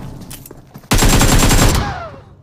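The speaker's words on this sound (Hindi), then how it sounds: "आ गया अबे शॉटगन" Loud, sustained in-game gunfire from a shotgun in the mobile battle royale game PUBG Mobile, a dense burst of blasts starting abruptly and running for about a second before trailing off.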